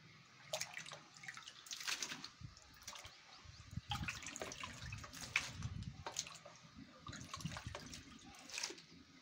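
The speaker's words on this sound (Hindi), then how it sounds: "इधर दूसरी बाल्टी साफ पानी में धो रही है" Potato slices for chips are washed by hand in a bucket of clean water, producing faint, irregular splashes and drips that continue throughout.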